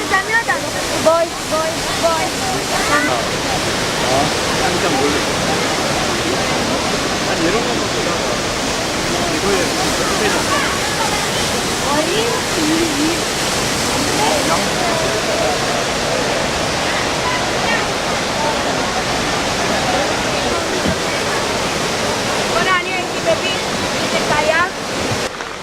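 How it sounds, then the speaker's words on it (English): The Banias River rushes loudly and continuously in an unbroken broadband roar of tumbling water, with voices murmuring faintly beneath it. "The Banias that's a River"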